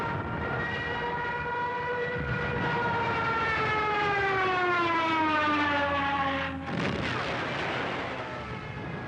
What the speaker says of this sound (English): The Jericho trumpet, a siren fixed to the plane, howled over Poland.